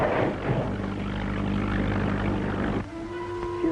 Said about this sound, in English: Keep that motor at half speed so it won't make too much noise.